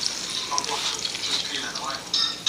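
Hot grease sizzling and crackling after a few minutes of frying, a steady close hiss with small pops, heard alone.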